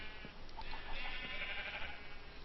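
Sheep bleating in the video game Minecraft, a short run of wavering bleats heard alone at moderate loudness against a steady background.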